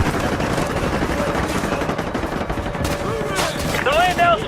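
Dense, continuous gunfire from Call of Duty Modern Warfare: loud automatic bursts and rapid shots rattle throughout, with a few whooshing, sweeping effects near the end.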